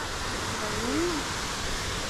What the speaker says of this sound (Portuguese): Nossa, mas que cachoeirinha da hora